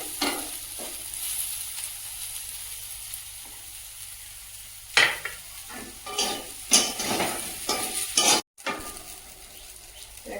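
Potatoes fry in oil in a pan with a soft continuous sizzle, broken by several loud clanks and scrapes of a utensil against the pot, close by and without speech.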